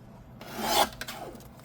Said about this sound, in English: I think what I'm going to do is grab that trimmer.